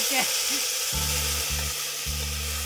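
Chili, ginger and garlic paste hits hot oil, giving a steady loud sizzle with bursts of frying crackle and a low hum, running continuously with no talk.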